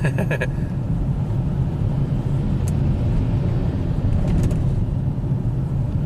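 A Nissan with a slipping CVT transmission at 107k miles accelerates uphill, giving a steady, loud, low engine drone and road rumble with no clear rise in pitch, heard from inside the car.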